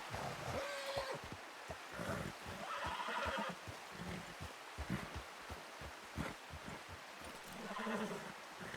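A horse in Red Dead Redemption 2 on a WildRP server, snorting and whinnying amid scattered hoof clops and rustling, fairly close and moderately loud, with no talking.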